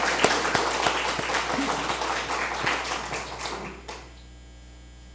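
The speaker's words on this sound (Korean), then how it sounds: "박수 한번 쳐드려요" A church congregation applauding during a sermon, a dense burst of clapping from many hands that fades out into low room hum after about four seconds.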